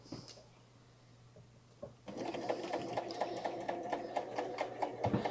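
A serger with its blade down sews fabric for a tote bag at reduced speed. After a quiet start, steady rhythmic stitching clatters up close and keeps an even pace.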